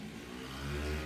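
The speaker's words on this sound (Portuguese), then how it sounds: "A moto." A motorcycle engine revs up steadily, a low continuous rumble growing slightly louder, heard faint and distant with no voices over it.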